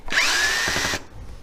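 A single short, loud burst of an electric drill removing a lathe faceplate in a woodturning shop, spinning up and running for about a second before stopping.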